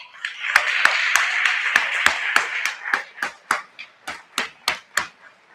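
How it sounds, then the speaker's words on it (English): Student athletes' audience applauds at the Tiffin University Dragon Awards, starting as a dense burst of claps and thinning out into a few crisp, separate hand claps near the end. "give everybody a round of applause"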